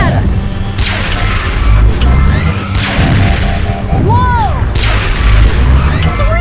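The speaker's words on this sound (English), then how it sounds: "Watch out! They're shooting at us!" Cartoon gunfire from enemies firing at the Transformers Rescue Bots: repeated loud blasts and zapping laser-like sweeps come in quick bursts over a busy, continuous game soundtrack.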